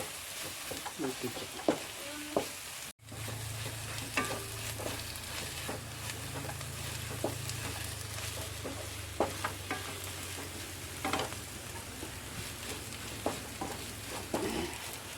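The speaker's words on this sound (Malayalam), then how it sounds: "നമുക്ക് മസാലപ്പൊടി ഇടാം നമുക്ക് നന്നായി ഇളക്കി പച്ചമണം പോണ വരെ" Masala powder being stirred and fried in a pan for soybean masala curry: a steady sizzle with repeated scraping strokes of a spoon against the pan, close and continuous.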